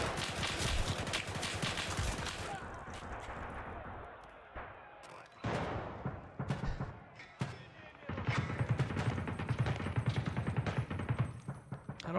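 Rapid bursts of gunfire from the Escape from Tarkov: Arena video game, loud automatic fire at the start, then a lull with scattered shots before more heavy firing, with someone talking over parts of it.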